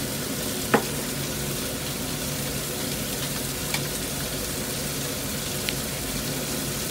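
Chicken wings with black beans sizzle in a hot pan as they are stir-fried, a steady close frying hiss with a few sharp scrapes of the spatula.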